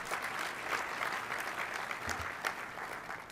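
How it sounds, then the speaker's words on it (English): A large audience applauds at the opening plenary session of an 84th annual meeting: steady, dense clapping that holds for about three seconds, with no voices over it. "Please give them all a round of applause."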